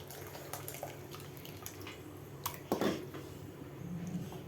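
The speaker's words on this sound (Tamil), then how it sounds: "நம்ம இந்த ஸ்டேஜில் புளி தண்ணி ஊற்றிக்கிறோம்." Tamarind water being poured into a simmering mathi fish curry, giving faint drips and splashes, with one louder splash near the end in a quiet kitchen.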